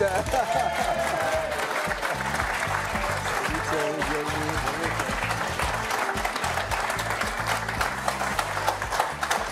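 A television studio audience applauds a guest actor, with loud, dense clapping and some cheering while voices talk and music plays underneath.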